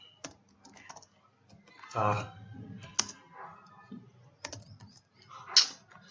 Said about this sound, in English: this keyboard is just okay.